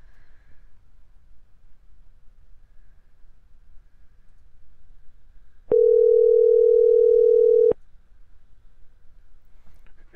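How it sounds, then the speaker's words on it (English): Quiet line hiss, then a single steady ringback tone that holds for about two seconds before cutting off abruptly to silence. "It's ringing."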